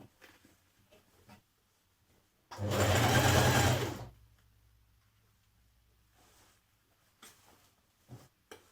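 A sewing machine stitches a neckline seam with a 1.5 cm seam allowance on a New Look 6543 summer top. It runs in one steady, close burst of about a second and a half, with quiet handling noises before and after.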